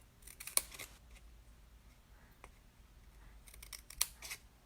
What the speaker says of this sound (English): Now on all your score lines, cut right up to that first score line.